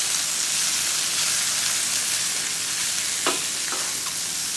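Sausage and onions sizzle steadily in a very hot pan, a dense continuous frying hiss with a few brief scrapes near the end, close and loud, no voices.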